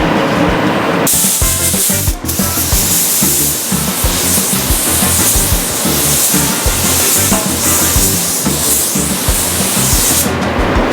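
A spray gun lays clear coat across a car hood with a loud, continuous hiss that runs steadily for about ten seconds between short breaks at the start and end.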